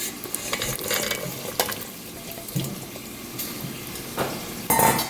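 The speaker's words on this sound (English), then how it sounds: "Okay, so I'm gonna go ahead and add in my green beans." Green beans tumble into a pot with bacon for a Southern green bean casserole, giving a soft, continuous watery rustle and sizzle with brief stirring scrapes.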